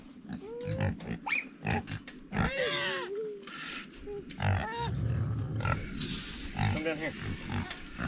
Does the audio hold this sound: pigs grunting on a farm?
yes